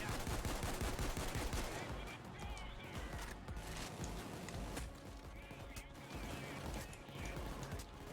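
Sustained automatic machine gun fire from an LMG Bulldozer enemy in the video game Payday 2, dense rapid bursts filling the whole stretch amid other gunfire and chaotic combat noise.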